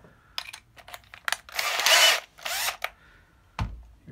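A handheld power drill fitted with a string-winder bit whirs in short bursts while winding cigar box guitar strings, a few quick spins then a longer run, close by and fairly loud in a quiet room.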